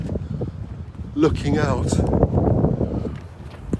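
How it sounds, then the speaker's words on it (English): Strong wind roars and buffets the microphone beside the Thames estuary while a person speaks briefly over it. "you could probably hear the sound of the wind because it's really windy."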